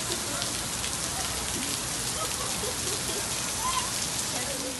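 Heavy rain during a flooding storm pours down in a dense, continuous hiss of drops striking surfaces, steady and loud throughout.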